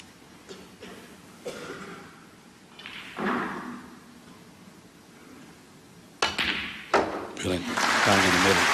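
A red snooker ball goes into a corner pocket during the 2016 German Masters final, heard as soft thuds beneath quiet commentary and followed by a loud burst of applause from the crowd.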